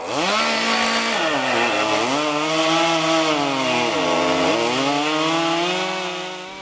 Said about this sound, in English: The chainsaw competitions have become a favorite of many